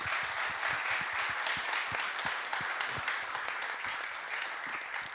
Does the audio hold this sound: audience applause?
yes